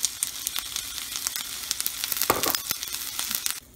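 Onion, tamarind and coconut fry in a pan with a steady, close sizzle and crackle, broken by a few sharp stirring scrapes before the sound cuts off near the end.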